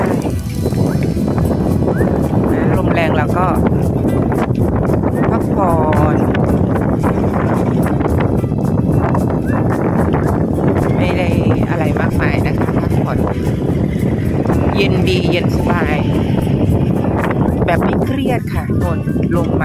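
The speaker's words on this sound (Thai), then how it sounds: "ลมแรงนะคะแต่ก็ไม่เป็นไร" Strong wind buffets the microphone with a constant roaring rush at Jomtien Beach, Pattaya, before rain, while someone talks throughout, her voice partly masked by the gusts.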